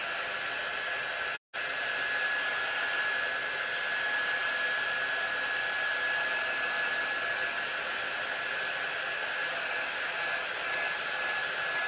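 A hair dryer blows on craft decorations in dollar-store frames, a steady loud whooshing drone with a high whine that cuts out for a split second and then continues alone.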